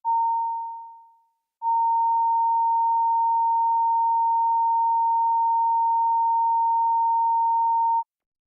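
Committee Room 29 sound-check test tone: a clean single-pitch sine beep that decays over about a second, pauses, then returns as a loud constant hum lasting several seconds before cutting off sharply, with no talking.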